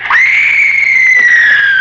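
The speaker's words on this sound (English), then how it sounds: "tell you, that scream came from this room." A woman's shrill, sustained scream from an old-time radio horror drama, loud and close, holding one high pitch for nearly two seconds and then trailing off, with no talk over it.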